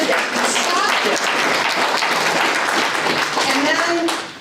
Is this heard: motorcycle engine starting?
no